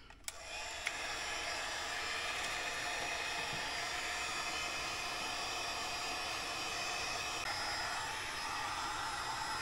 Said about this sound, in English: So I've got my heat gun right here. We're going to just turn it on and we're going to heat this up.